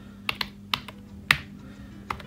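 Keys clack on an iPad Pro keyboard in a handful of sharp, separate taps, irregularly spaced and close to the microphone, against a quiet hum with no speech.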